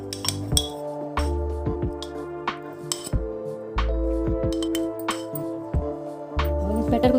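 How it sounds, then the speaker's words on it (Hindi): Three small glasses get greased inside with oil for rava appam, with repeated glassy clinks and taps close by over a steady low hum, the knocks falling irregularly throughout. "तीनों गिलासों में हम अंदर अच्छे से तेल लगा लेंगे।"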